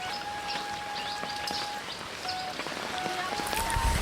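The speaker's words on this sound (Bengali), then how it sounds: "আমাদের বাগেরহাটে তিন চার দিন যাবৎ ঝুম বৃষ্টি হচ্ছে" Steady heavy rain falls on a village in Bagerhat, a dense continuous patter close around, with a few faint bird chirps threaded through it.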